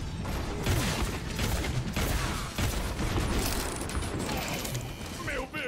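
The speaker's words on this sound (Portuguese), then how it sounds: "A torreta tá atirando." In Overwatch, Torbjorn's deployed turret fires in rapid mechanical bursts amid clattering game combat, with someone talking over it in Portuguese.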